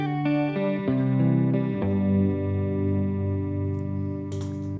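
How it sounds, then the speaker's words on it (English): Electric guitar played through a chorus effects pedal, sustained shimmering chords and single notes with a thickened, doubled tone, moderately loud and alone. "I just use it for the chorus. And that just fattens up the guitar tone."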